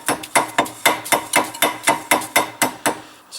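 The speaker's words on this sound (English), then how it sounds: "It's a copper hammer." About a dozen sharp metallic taps of a copper hammer striking a Renault Clio rear brake drum, evenly spaced and close, in a steady rhythm.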